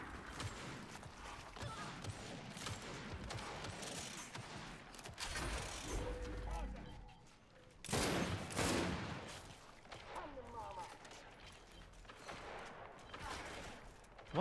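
Gunfire in the Gears 5 video game during a ranked Control match, a faint, busy spread of shots and mechanical clatter with one louder burst partway through, under low background game noise.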